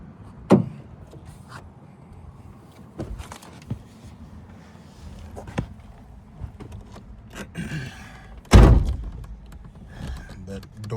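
A car door on a Nissan R33 GT-R slams shut with one loud, close thunk, followed by a tinny, rattly ring-off. A few softer knocks and mechanical clicks sit around it against quiet interior ambience.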